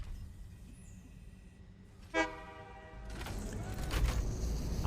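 Train horn in the video game Satisfactory, a single short toot sounding over a quiet background hum, followed by a rising rumble of train movement.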